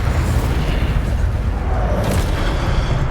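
An Incendio fire spell blast in Hogwarts Legacy, a loud rumbling, roaring burst of low booming energy sustained at steady volume over a few seconds.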